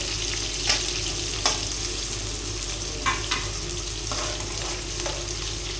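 Onions and green chillies frying in a pressure cooker for biryani, a steady close sizzle with a few sharp scraping stirs spaced through it, no talking.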